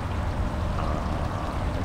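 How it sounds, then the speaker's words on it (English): A waterfall heard up close, a dense, steady rushing and splashing roar that holds evenly throughout with no voices over it. "Come down to the beautiful waterfall."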